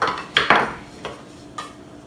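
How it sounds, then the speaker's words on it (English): Soup being stirred in a pot of boiling water on the stove, a few clinking scrapes of a utensil against the pot sounding close and moderately loud, with no talking. "Give it a stir."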